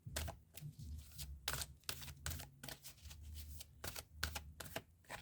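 Oracle cards being shuffled and drawn by hand, a fast run of crisp papery riffles and slaps repeating closely with no talking.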